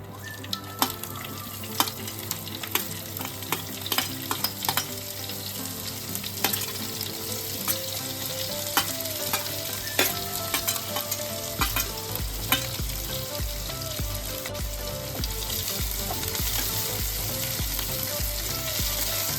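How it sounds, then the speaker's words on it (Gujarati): Hot oil sizzles continuously with a spice tempering while a spoon scrapes and clinks against the pan, with a low steady hum underneath. "થોડી વાર આપણે સાતરી લઈશું"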